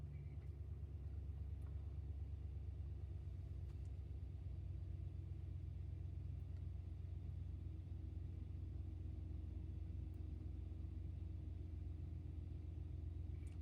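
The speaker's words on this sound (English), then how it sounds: "let's go ahead and start up the truck here" A Ram 1500 pickup truck engine running at a low, steady idle, a quiet continuous rumble with no other sounds.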